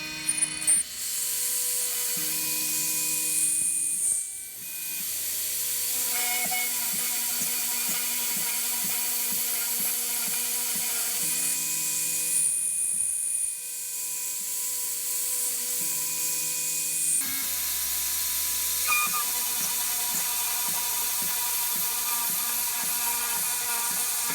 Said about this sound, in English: I could drill some of them all the way through